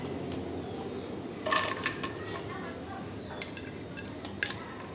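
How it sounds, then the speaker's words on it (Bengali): Chopped onions go into a wok, producing soft scraping and clinks of a utensil against metal, with a few sharper knocks over a quiet room background. "এখন আমি দিয়ে দেব এর মধ্যে পেঁয়াজ কাটা"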